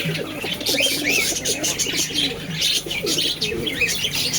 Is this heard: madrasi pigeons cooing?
yes